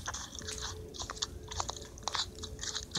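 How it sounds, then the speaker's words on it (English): A character in a horror video game set in a hospital chews and eats noisily, with close, wet, crunchy bites and munches repeating steadily throughout, no talking. "this guy's in here still eating dookie"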